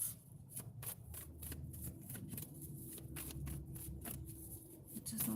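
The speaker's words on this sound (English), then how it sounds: "Shuffling these tarot cards." A deck of tarot cards being shuffled by hand, steady close riffling and flicking in rapid repeated bursts over a low background hum, with no voices.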